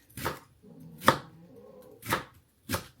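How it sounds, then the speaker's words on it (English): Four sharp knife chops on a cutting board while preparing vegetables, spaced irregularly about a second apart, close and crisp, with a low hum of background noise between strikes. "And chop our veggies."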